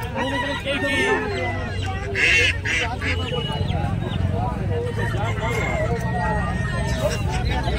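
Ducks and other poultry call at a busy rural village market near Kolkata, honking and quacking on and off beneath steady crowd noise and nearby voices talking.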